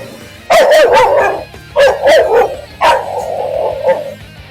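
Dogs bark loudly and close by on a street in the Philippines, in three bursts of rough, overlapping barks with short gaps between them.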